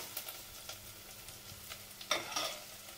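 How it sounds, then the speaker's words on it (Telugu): Spices fry in a pan for Telangana bagara rice, with soft sizzling and a few scrapes and stirs of a spoon, growing a little louder toward the end, with no talking. "ఇట్లా మంచిగా ఫ్రై కావాలి, పచ్చితనం పోవాలి."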